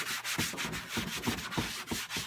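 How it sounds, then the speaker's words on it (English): Leather car seat bottom cushion being scrubbed with a leather cleaner and prep: close, rhythmic rubbing strokes, roughly two per second, steady and without talk. "So get in there and scrub every nook and cranny."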